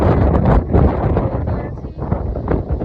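Strong windstorm wind buffets the microphone in loud, rumbling gusts outdoors at 6:30, with rustling and flapping of blowing objects throughout.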